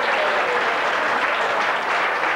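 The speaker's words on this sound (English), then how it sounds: "Would you give him a round of applause, please?" Thick, continuous applause fills a dance hall as a singer is welcomed, a dense wash of many hands clapping at a steady, even level from start to finish.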